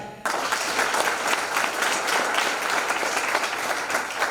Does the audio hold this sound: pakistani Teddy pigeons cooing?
no